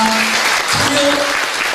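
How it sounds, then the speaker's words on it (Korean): Applause breaks out from a church congregation at a Korean youth dedication service, a short burst of loud clapping with a voice and some tonal sound mixed in. "큰 박수 하겠습니다"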